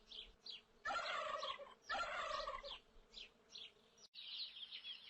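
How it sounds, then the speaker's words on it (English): A farm turkey gobbles in two loud rattling bursts, followed by fainter trailing calls and a buzzy, insect-like drone with no talk. "Turkey. This is a turkey."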